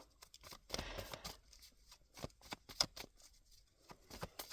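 Tarot cards shuffled and drawn by hand, soft close papery riffles and flicks in a quiet room, with brief pauses between handling.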